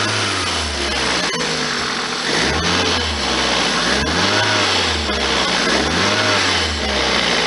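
A 1999 Toyota Celica ZZT231 engine, fitted with a cold air intake, revs repeatedly from idle in rhythmic rising and falling bursts, loud and close, with no talking.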